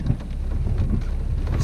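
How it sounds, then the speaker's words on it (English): Heavy rain pours down in Big Bear Lake, California, as a cold front arrives, a dense close roar with low rumbling and no voices. "But we've just been getting rain."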